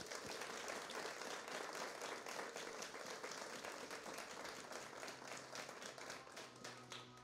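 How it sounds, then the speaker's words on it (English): A crowd at a museum science event applauds the scientists, with dense, sustained clapping that carries on steadily before slowly thinning out. "Can we have a round of applause for the scientists"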